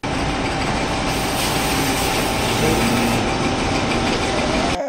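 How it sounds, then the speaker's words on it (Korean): A gear shaper machine cuts gear teeth with a reciprocating cutter, producing a steady, loud, continuous mechanical whir and grinding hum that runs for the whole stretch without a break. "기어 쉐이퍼의 쉐이핑 프로세스 한번 보도록 하죠"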